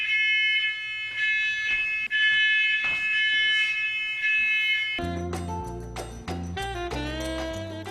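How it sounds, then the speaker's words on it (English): A shrill, piercing alarm tone sounds continuously for about five seconds, then gives way to loud, clashing music-like tones. "Is that your smoke alarm?"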